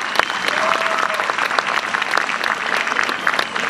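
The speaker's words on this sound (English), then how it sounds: "So please a round of applause for them." A crowd at a plaza open house gives a round of applause after speeches thanking helpers, dense, lively clapping that is loud and sustained across the whole stretch, with faint voices mixed in.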